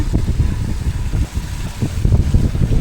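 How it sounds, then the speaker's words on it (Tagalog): Strong wind roars and buffets the microphone in a continuous, gusty low rumble, with a faint sense of open water behind it. "lakas na hangin"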